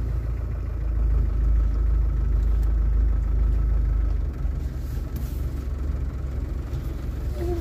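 An off-road vehicle with synchronised axles pulling away, its engine a loud, close low rumble that swells for a few seconds and then settles to a lighter idle-like drone, no speech.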